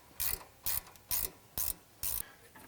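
A ratchet loosens a 10mm bolt on the ABS bracket of a Toyota 4Runner or Lexus GX suspension, giving five evenly spaced bursts of close, crisp clicking with short pauses between them.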